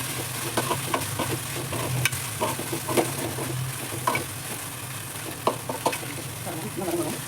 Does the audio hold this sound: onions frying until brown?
yes